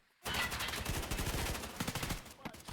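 Sustained automatic gunfire in a competitive shooter video game on the Iceberg map, loud and close, a rapid rattling burst of shots lasting over two seconds before cutting off.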